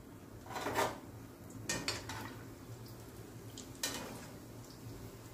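Kala jamun dumplings stirred while frying in oil over a low flame, with three or four light clinks and scrapes of a spoon against the pan spaced out over a quiet background, no talking.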